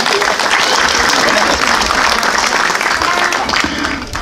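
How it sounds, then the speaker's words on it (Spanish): Crowd applause rings out at an outdoor inauguration of a park and street in El Tablón: loud, dense clapping from many people close by, sustained without a break and with a faint murmur of voices beneath. "Un aplauso, por favor, para él."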